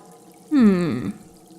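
Water sloshing in a natural well formed by running water in a video game, heard as a single close, loud gurgling splash lasting about half a second, with a falling tone.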